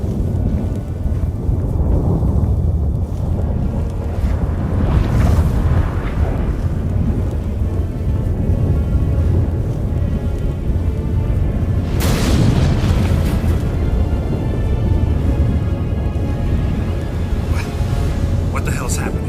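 A storm rumbles in The Witcher 3, with deep booming thunder and wind noise, a strong crack around the middle, loud and sustained beneath character voices speaking.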